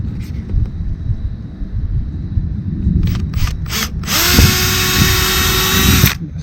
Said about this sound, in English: that just went right through the aluminum and then the wood